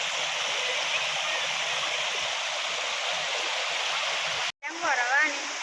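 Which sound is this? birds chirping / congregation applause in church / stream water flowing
stream water flowing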